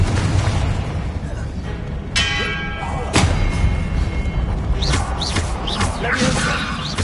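Hogwarts Legacy's Confringo spell fires, producing heavy thuds and booming blasts amid constant rumbling game noise, with a couple of sharp impacts and a low voice over the mix.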